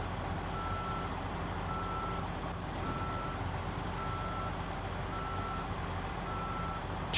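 A Freightliner FLD truck reverses, its backup alarm giving evenly spaced high beeps roughly once a second over a low, steady engine hum.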